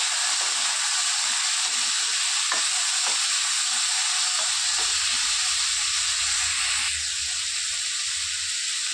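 Sabudana khichdi fries in a pan with a steady, bright sizzle and hiss, joined by a few light stirring knocks and a low rumble partway through.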